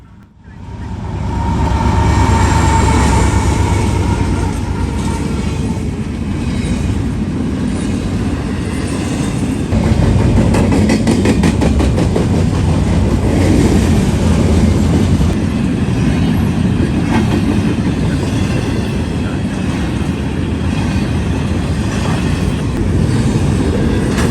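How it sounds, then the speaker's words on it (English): A freight train of empty stack cars, led by a C6M with an ET44AC second, passes close and loud, with a steady heavy rumble, rolling wheel noise and some clatter that last the whole time. "I-73 today is all empty stacks, with a C6M leading and an ET44AC second."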